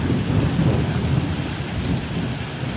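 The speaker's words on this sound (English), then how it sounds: "That was the loudest thunder I've ever heard." Heavy rain pours steadily in Indonesia while deep, rumbling thunder rolls through, loud and close, with no voices.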